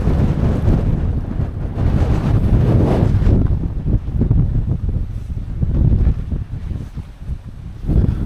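Strong wind gusts buffet a campsite, roaring in surging waves of low rumbling noise that swell and ease repeatedly and batter the microphone close up, with no talking.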